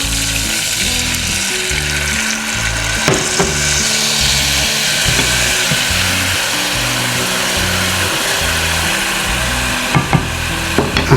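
Homemade BBQ sauce with garlic powder and paprika cooking in a pan, a steady, loud sizzle with bubbling and occasional stirring clinks throughout, no talking.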